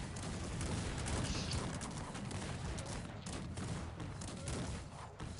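Cannon and musket fire in the real-time strategy game Cossacks 3, rapid scattered bangs and crackling volleys heard at a distance in a dense, continuous battle din.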